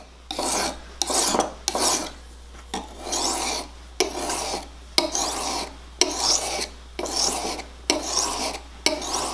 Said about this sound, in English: people talk about different angles on sharpening a knife